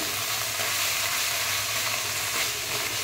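Cumin paste sizzles loudly in a pan while being stirred, a dense unbroken frying hiss held close and even throughout, with no voices.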